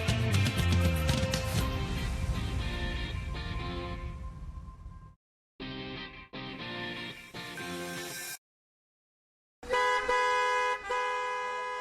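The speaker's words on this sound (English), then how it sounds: "What a busy traffic on this Friday evening." Busy Friday evening traffic with car horns honking, long sustained and repeated toots of several horns, loud and close, broken by brief silent gaps.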